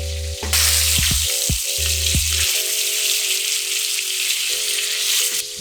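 Steak sizzles loudly and steadily in a cast iron frying pan, a close, continuous hiss with low background tones beneath it and no voices.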